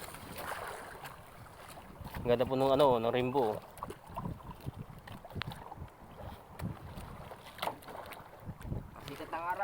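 A small boat on a rough sea is buffeted by wind and waves, with a steady low rush and surges of louder noise, while someone talks in Tagalog over it.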